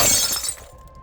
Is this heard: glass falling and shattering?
yes